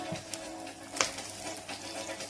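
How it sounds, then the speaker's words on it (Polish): Young chicken fries in a hot pan, a steady close sizzle with a couple of sharp pops of spattering fat and no talking. "No ale to się smaży"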